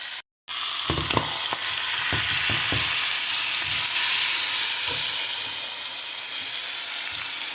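Mutton liver and fresh tomatoes frying on a tawa over medium-low heat, a loud steady sizzle that continues without a break after a brief silence at the start, with a few soft clatters early on.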